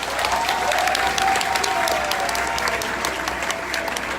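An audience at a Paris gathering of the African and Ivorian diaspora applauds a man walking up to the front, with steady, moderately loud clapping throughout and a faint sustained tone running beneath it.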